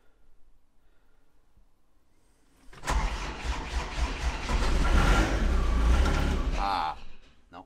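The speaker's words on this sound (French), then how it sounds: "des moteurs qui sont assez compliqués à démarrer quand il fait froid" A cold tractor engine in wintry weather cranks and struggles to start, a loud, steady churning rumble lasting several seconds after a quiet lead-in, then cutting off without catching.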